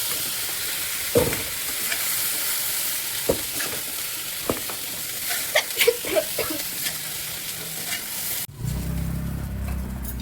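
Whole spices (cardamom, cloves, coriander, cumin, dried red chilli and bay leaf) crackle and hiss in a hot pan amid sharp stirring knocks, before the sound abruptly gives way to a lower, duller rumble near the end.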